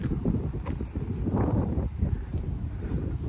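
Strong wind in a northeast Calgary neighborhood buffets the microphone with a constant low roar and gusty rumbling, loud and unbroken.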